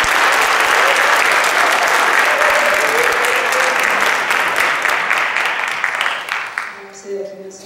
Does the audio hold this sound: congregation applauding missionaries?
yes